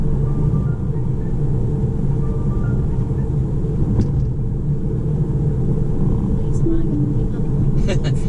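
A 2021 Tesla Model 3 SR+ on Navigate on Autopilot leaves a Brisbane motorway at an exit, its steady road and tyre rumble continuous throughout, with someone talking over it.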